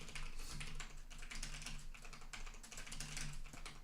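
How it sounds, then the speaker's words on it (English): Clicky computer keyboard typed on steadily, a close, rapid run of sharp keystrokes that continues without pause and with no speech over it. "I love my clicky keyboard."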